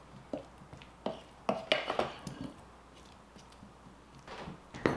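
Utensil scraping and clinking in a pan while food is stirred to coat it in barbecue sauce, several quiet irregular knocks and scrapes at close range with no talking.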